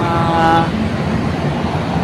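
Road traffic rumbles along EDSA in Manila on a busy Saturday, a steady wash of engine and tyre noise with a brief tonal whine from a passing vehicle early on.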